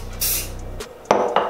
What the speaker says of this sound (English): So spray it from far away.